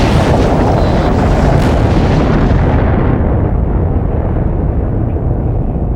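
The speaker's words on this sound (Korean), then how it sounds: "유럽 전역에 항공 대란을 가져온 아이슬란드 화산 폭발." An Icelandic volcanic eruption heard as a loud, dense, continuous rumbling roar with crackling bursts, heavy and unbroken throughout, with no voices present.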